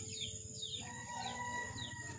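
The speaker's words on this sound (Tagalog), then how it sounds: "Sumisiya pa rin yung mga sisiw" High, thin peeping of chicks repeats in a steady pattern over a low background hum, faint and continuous with no talking.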